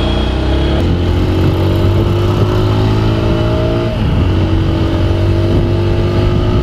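A TVS Apache RTR 160 4V BS6 motorcycle engine idles and revs through its exhaust, close and loud, with a throaty steady drone that rises in pitch as the throttle opens and then settles.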